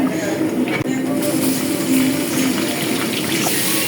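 Water gushes into a large pot of beef biryani during cooking. The pour is close and continuous for a few seconds, with a brief knock near the start.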